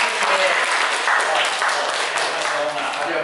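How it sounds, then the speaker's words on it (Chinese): An audience applauds at a Lions Club lecture, a steady dense wash of many hands clapping throughout, loud and close, with a voice speaking underneath. "来，热烈的掌声。"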